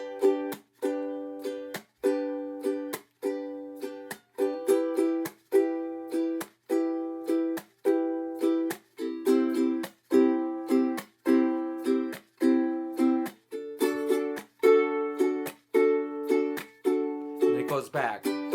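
Ukulele strummed in a steady four-beat pattern across all four strings, with muted percussive chucks on beats two and four, repeating evenly and close for the whole stretch with no talking.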